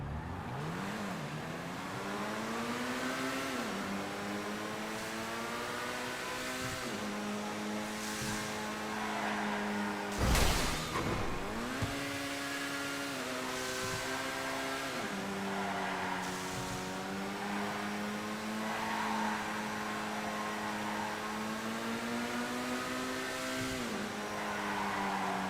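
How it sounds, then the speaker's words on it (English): Progenitali GTB supercar in a video game, its engine droning steadily and rising through gear shifts as it accelerates, with a brief sharp crash or thump partway through and no talking. "Okay, so this vehicle here, we've got the Progenitali GTB. It says it's a supercar"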